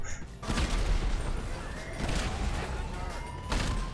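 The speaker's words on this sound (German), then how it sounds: "warum schießen die denn mit dem Panzer, wenn ich neben den bin?" Tank firing in GTA Online amid combat: a heavy blast and crashing impacts with dense gunfire crackle, loud and close, with sharp bursts at the start and near the end and a voice talking over it.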